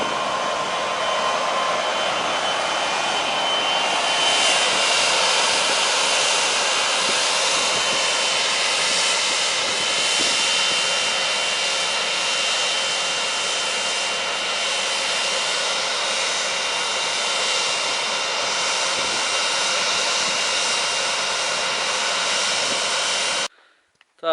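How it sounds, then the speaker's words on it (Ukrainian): A Belarus 892 tractor rolling and sowing winter wheat in an autumn field gives a steady, loud engine drone that runs without a break before cutting off abruptly at the end. "Трактор гарно їздить, каткує пан Славік Белінський."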